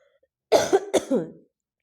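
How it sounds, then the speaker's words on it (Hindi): A short burst of coughing, two or three harsh coughs in quick succession, close and clear against silence. "जब मैं ज़्यादा बोल देती हूँ तो मुझे खांसी आने लग जाती है"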